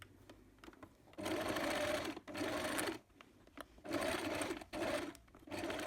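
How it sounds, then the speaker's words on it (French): A sewing machine stitches around the top edge of a fabric tote bag made from scraps, running in several steady whirring bursts separated by short pauses, close and alone. "Vous allez coudre à 1 cm du bord sur tout le tour du haut du sac."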